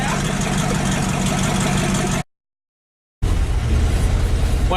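A car engine runs loud and rough with its exhaust cut off, a steady broadband roar with deep low rumble, broken by about a second of silence before the blatting idle resumes.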